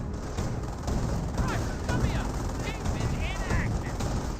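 Autocannon fire on a jeep in the Company of Heroes video game, dense rapid bursts and impacts layered into a busy battle din, with a voice talking over the action.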